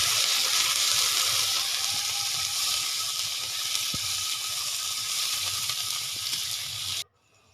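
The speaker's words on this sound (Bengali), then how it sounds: "পেঁয়াজ কিছু দিয়ে দিয়েছি দেখো পেঁয়াজগুলো একটু ভালো করে ভাজা হবে" Onions frying in a pan make a loud, continuous crackling sizzle that holds steady, then cuts off abruptly near the end.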